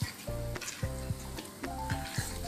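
Vegetable idli batter stirred steadily in one direction, making soft rhythmic strokes about every half second over a low steady tonal hum.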